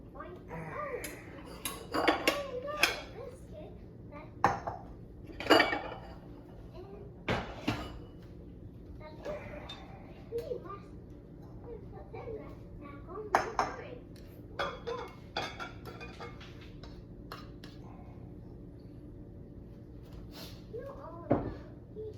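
Ceramic bowls and dishes clink and knock on a counter while cooked rice is scooped and served, a run of scattered sharp clatters, some close and loud, with quieter rustling between and a voice talking over parts of it.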